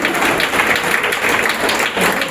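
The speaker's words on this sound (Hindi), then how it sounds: "जोरदार तालियां होनी चाहिए हैट्रिक के लिए" At the Chittorgarh literature festival, an audience applauds loudly to honour an MP's third election win, a thick, uninterrupted roar of clapping from a large crowd filling the hall.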